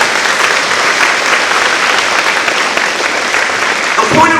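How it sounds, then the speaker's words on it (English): A church congregation claps its hands during a sermon, giving a dense, loud, steady round of applause that runs the whole time, easing slightly near the end. "Give that seat a hand applause."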